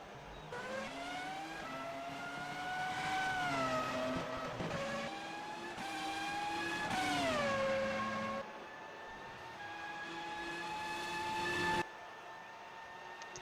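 Formula 1 race car on a flying lap during qualifying at the 2019 Australian Grand Prix, its high-revving engine whining loudly and shifting pitch up and down through gear changes as it passes, with no talk.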